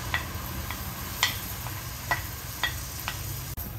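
Chopped onions fry in a hot pan with a steady soft sizzle, broken by a few sharp spatula scrapes and taps at irregular intervals, close and moderately loud with no voices.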